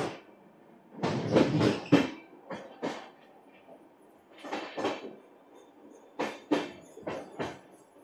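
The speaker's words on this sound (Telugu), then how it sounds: "ఆ లోకల్ ట్రైన్, సారీ పైనుంచి కిందకే వస్తుంది." A Mumbai local train passes near a crowded railway station, its wheels giving a series of loud, uneven clattering bursts with quieter gaps between them.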